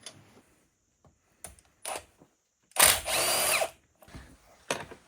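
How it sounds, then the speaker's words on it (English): A power tool loosens the cylinder head bolts on a Yamaha Grizzly 600 engine: a few short whirring bursts, then one longer loud rattling run, close up with quiet gaps between. "Go ahead and remove these cylinder head bolts."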